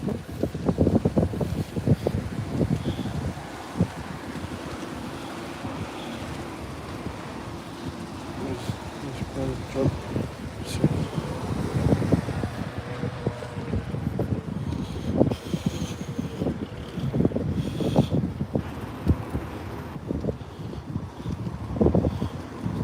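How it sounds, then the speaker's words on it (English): Strong gusts batter the microphone in uneven low rumbling bursts that swell and fade throughout, with a person speaking intermittently beneath the buffeting. "The wind is just crazy"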